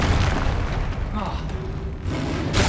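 Booming spell blast from the Bombarda charm in Hogwarts Legacy, a loud low rumble filling the whole stretch amid game combat, swelling again at the end.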